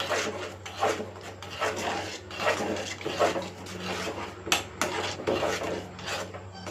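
Koozh porridge stirred in a pot, a steady repeated scraping and rubbing of the spoon against the pot in a regular rhythm, fairly close and moderately loud, with faint talk in the background.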